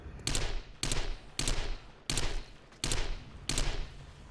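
Rifle fire in a zombie video game, six separate heavy bursts of rapid shots spaced about half a second apart, loud and close, with brief quiet gaps between them.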